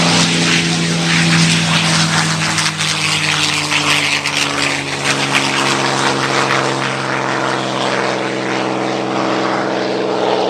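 A North American P-51 Mustang propeller plane takes off at an airshow, its engine a loud, steady, rumbling drone with strong low harmonics that holds close and continuous throughout.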